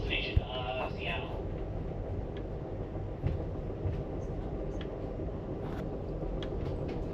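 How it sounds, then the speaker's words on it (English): Amtrak's northbound Coast Starlight rolls along the rails with a steady low rumble heard from inside the train, faint clicks and knocks over the top, and brief muffled voices near the start. "a wonderful welcome to board Amtrak train number 14, the northbound Coast Starlight"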